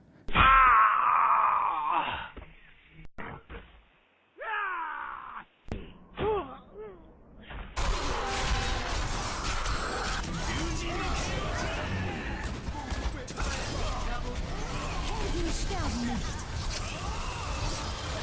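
Enemy death cries from Blizzard games: a string of loud, separate wails, groans and moans, some with crashing impacts, then a denser stretch of battle noise with overlapping voices and clatter.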